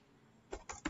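Typing on a computer keyboard: three quick, faint key taps in close succession near the end, alone in a quiet room.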